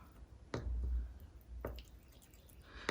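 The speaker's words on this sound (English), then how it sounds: "we're gonna stir that." Thick, sticky homemade gel polish is stirred in a container, giving a couple of faint, soft squishing strokes close up.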